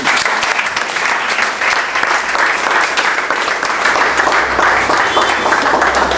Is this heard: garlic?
no